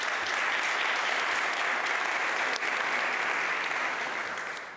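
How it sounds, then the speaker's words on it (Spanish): Audience applauding a speaker at a talk, dense steady clapping throughout that tapers off slightly at the end. "Así que nada, aplauso para él."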